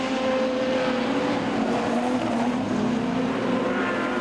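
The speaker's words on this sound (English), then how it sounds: "Race cars starting to move around and see if they can find some more drive." Production sedan race cars roar around Kingaroy Speedway in a season-opener A-Main, a steady dense engine drone from a distance with no voices over it.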